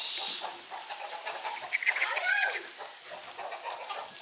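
A turkey calls in a village farmyard with short, scattered calls at moderate distance, mixed with faint background voices and other farm sounds.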